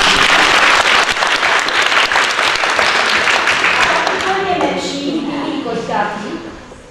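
An audience breaks into sustained applause at a club event honoring a national championship team, dense clapping starting loud and gradually thinning and fading toward the end.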